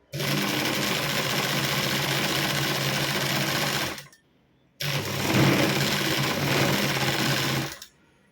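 Sewing machine stitching a hip belt, running in two long continuous bursts of rapid, even whirring separated by a short pause, close and clear with no talk.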